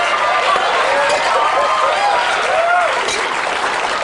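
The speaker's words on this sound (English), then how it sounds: "the audience laughs and they applaud" A television talk-show studio audience laughs and applauds in a steady, loud wash of clapping and crowd noise, with voices and laughter riding on top throughout.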